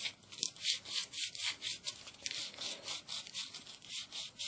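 Steady rhythmic scraping as a tool deburrs the inside edge of a freshly cut pipe for a homemade inline carbon filter, with even back-and-forth strokes, close and fairly quiet, no talking.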